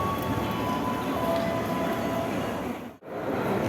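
Train rolling into a local commuter station on the Jakarta–Karawang line, a steady loud rumble of rail cars that dips briefly near the end before resuming.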